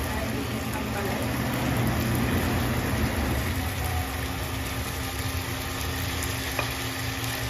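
Bitter gourd (ampalaya) sizzles steadily as it hits hot oil in a pan, a dense continuous frying hiss with low stirring rumble throughout, fairly loud and close, with no talking over it.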